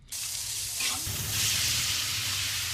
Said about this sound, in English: Vietnamese sizzling mini pancakes baked on a special pan that has several round hollows